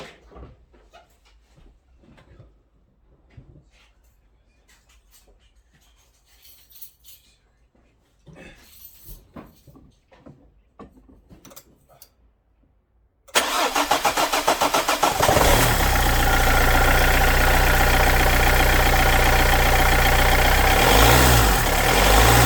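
A 1.5 dCi diesel car engine with a rubbing noise and unstable idle cranks and catches, then runs loudly and close with a wavering, uneven idle after a stretch of quiet handling noises.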